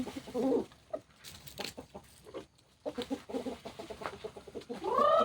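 Several chickens cluck and coo quietly nearby in scattered, overlapping calls, with a louder squawk near the end.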